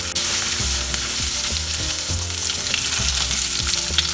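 Mango pieces fry in a pan with a dry red chili and black mustard seeds for a Bengali aam daal, giving a loud, steady sizzle broken by occasional stirring scrapes, with no voices.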